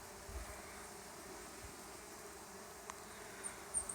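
Honey bees buzz over a section of flowering canola in a field, a faint, steady droning hum from many insects, with no speech and occasional soft bumps.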